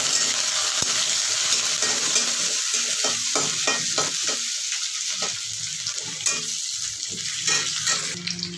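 Chopped onion fries in a pan during a home cooking session for a mixed vegetable sabzi, a loud, continuous sizzle punctuated by rhythmic scraping strokes of a spoon stirring the pan, with no speech.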